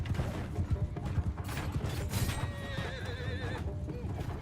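Horse neighs and hooves clip-clop in the Shokuho samurai video game, a whinny rising clearly above steady galloping over a busy battle background.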